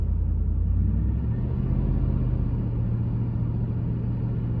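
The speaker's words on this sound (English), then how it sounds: "I'm going to gently rev it up" 2002 Ford F-150 V8 engine gently revved to just under 2,000 RPM, a steady close low rumble that swells slightly and holds, with no talk.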